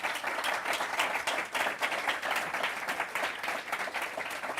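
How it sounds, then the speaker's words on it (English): Steady applause from a conference audience honoring panelists on an energy and carbon-neutrality forum, a dense patter of many hands at moderate distance with no talking over it. "How about a round of applause for them?"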